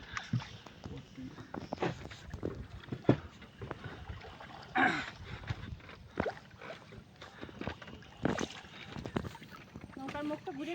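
A rowing boat turning on a river in the Sundarbans, with soft water splashes and wooden knocks from the oars, faint and uneven, under people talking nearby.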